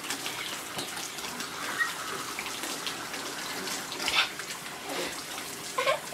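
Dog bathed with running water at a grooming salon, a steady hiss of spraying water with occasional louder splashes and scrubbing bursts, heard close without talk.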